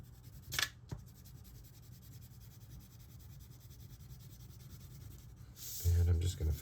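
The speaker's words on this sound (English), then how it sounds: "And now I've colored my background." Crayon or colored pencil rubbed across paper while coloring in a pumpkin picture's background, a soft continuous scratchy rubbing that runs steadily, close by, with a voice coming in at the end.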